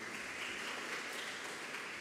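A church congregation applauding during a Sunday sermon, a continuous wash of many hands clapping, even and distant-sounding, with no clear voices over it.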